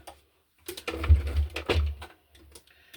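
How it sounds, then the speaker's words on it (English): A sewing machine runs a straight stitch around the edges of paper journaling cards in two short, close bursts of rapid mechanical ticking, with quiet pauses between. "I will just sew around the edges of the base and the edges of the decorative papers, just in a straight stitch"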